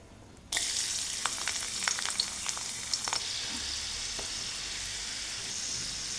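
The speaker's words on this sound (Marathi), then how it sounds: "एक चमचा तेल घेतले फोडणीसाठी" A sudden burst of crackling sizzle starts after a brief quiet as green chilli paste goes into hot oil for a tempering, then continues steadily with scattered sharp pops, close by.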